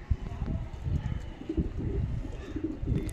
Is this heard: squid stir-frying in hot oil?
no